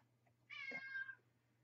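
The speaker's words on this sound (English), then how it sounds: "the cat's calling me." A cat gives a single clear meow indoors, close and moderately loud, over a quiet low hum.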